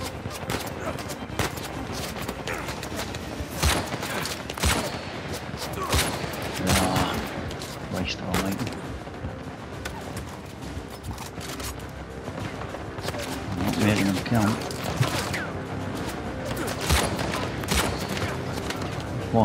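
Sharp gunshots and rapid bursts from the video game Uncharted 4 crack repeatedly over about twenty seconds, some single and some in quick strings, over a busy low combat rumble.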